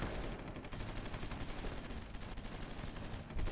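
Artillery firing in a strategy war video game, heard as a dense, continuous rumble of rapid booming shots at a fairly low level, with no pauses.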